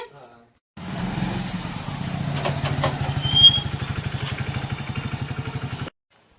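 A motorcycle engine runs close by at a steady, throbbing idle with a fast rhythmic pulse and a brief rev near the middle, stopping abruptly at the end.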